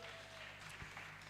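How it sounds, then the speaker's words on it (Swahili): Church congregation clapping at a Sunday morning service, a steady wash of applause over a low hum, with no voices standing out. "Pigia Yesu makofi."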